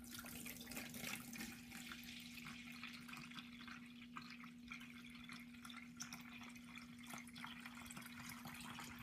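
Plain cold water being poured into a coffee toddy cold-brew maker, a faint, steady trickling and splashing that runs on without a break and with no voices.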